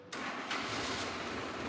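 A Sonalika DI 32 tractor with 300 hours of use fires up on its self-starter, cutting in abruptly and going straight into a loud, rough, continuous engine rumble close by.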